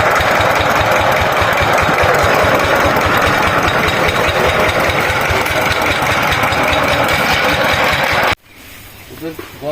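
A power tiller engine runs loud and close with a steady, rapid chugging throb for about eight seconds, then cuts off abruptly into near quiet.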